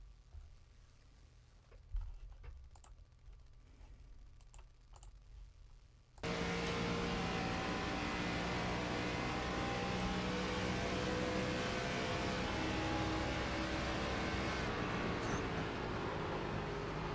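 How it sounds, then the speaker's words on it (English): ARCA stock car engines race in iRacing at the Tricky Triangle 200. After a few seconds of quiet clicks, a loud, steady, droning engine roar starts suddenly and holds without a break. "we're going to listen to the beautiful engine sounds of these cars"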